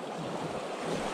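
Fast-flowing river water at a trout stream rushes in a steady, dense wash, close and moderately quiet, with no voices.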